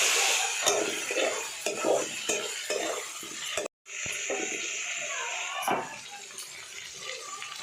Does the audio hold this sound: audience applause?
no